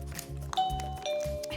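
A dog treat dispenser's doorbell chime sounds up close, a bright two-tone ding-dong, with a low rhythmic hum running underneath.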